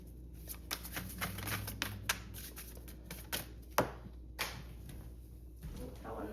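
Tarot cards being shuffled by hand, a run of crisp riffling flicks and taps close by, brief pauses between bursts.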